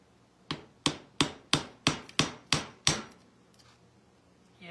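A big nail is hammered into a tin can with eight sharp, evenly spaced metallic strikes close by. After the strikes there is quiet.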